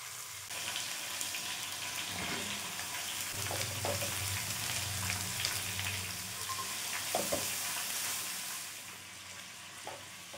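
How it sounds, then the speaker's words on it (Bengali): Prawns fry in a pan with a steady, close sizzle and occasional clicks and scrapes from stirring, easing slightly toward the end. "এদিকে চিংড়িগুলো ভাজা হয়ে গেছে,"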